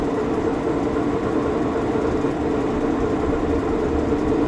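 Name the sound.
make-up air unit fan starting up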